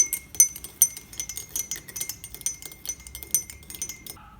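A spoon clinks steadily against a glass while stirring cumin water with lemon juice, rapid light taps repeating close up with no talking.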